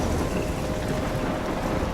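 Steady rain and rolling storm noise from a thunderstorm in the video game Life Is Strange, a dense continuous wash of rainfall with low rumbling underneath, loud and unbroken throughout.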